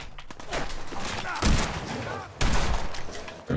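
Gunfire from enemies in Fallout 4, loud continuous bursts of automatic fire with heavy thumps, player voice chatter mixed underneath.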